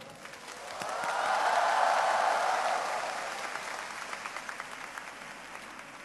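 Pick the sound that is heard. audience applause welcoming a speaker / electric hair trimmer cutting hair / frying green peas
audience applause welcoming a speaker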